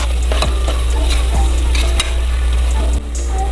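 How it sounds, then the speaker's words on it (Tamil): Ginger garlic paste frying with tomatoes in a pan for prawn biryani, stirred steadily with a spoon scraping the pan bottom under a constant loud sizzle; no talking. "இது இஞ்சி பூண்டு பேஸ்ட் அடி பிடிக்காமல் நல்லா கிளறி விட்டுக்கலாம்."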